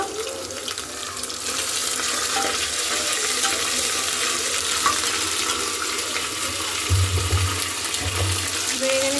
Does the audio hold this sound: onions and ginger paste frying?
yes